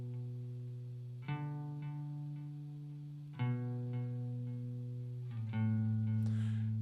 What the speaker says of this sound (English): You'll hear that echo happening more and more.